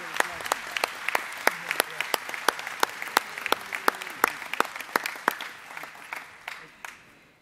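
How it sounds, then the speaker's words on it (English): Audience at a business session gives a round of applause, a scattered, fairly sparse clapping of individual sharp claps that thins out toward the end, heard in a moderately sized room. "I would like for you to give all of them a round of applause"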